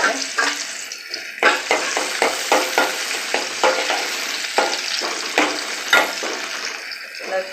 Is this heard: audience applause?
no